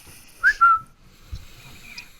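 A person whistles a short two-note phrase, a quick rising chirp then a held tone, close and clear, followed by faint quiet sounds.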